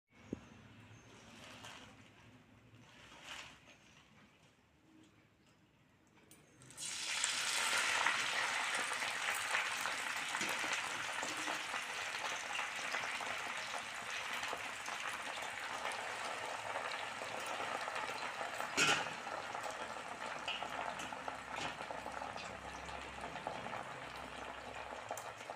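Gongura leaves dropped into hot oil, starting quiet then bursting into a steady loud sizzle and crackle of frying that continues throughout.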